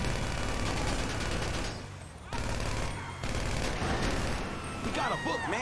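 Dense gunfire in a GTA V street scene, a sustained loud clatter of rapid shots with a brief dip near the middle, close and continuous over a noisy action backdrop.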